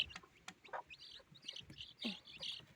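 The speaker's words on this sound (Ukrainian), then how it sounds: "Хто там пікав?" Several high, thin peeps from newly hatched chicks, scattered and repeated in quick bursts close by, with soft clucks from a hen underneath.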